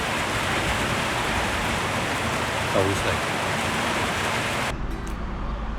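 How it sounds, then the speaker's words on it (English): Rain falls during a bicycle tour between Bangkok and Malaysia, a dense even hiss that fills the whole clip and drops away near the end, with a brief spoken word partway through. "it started to rain."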